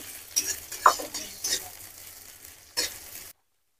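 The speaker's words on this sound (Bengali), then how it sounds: "পেঁয়াজ কুচিটা ভালো করে ভেজে নেবো।" Chopped onion fries in a pan with a bright, crackling sizzle, punctuated by a few sharp scrapes and clinks of a stirring spatula, close by with no voices, before cutting to silence.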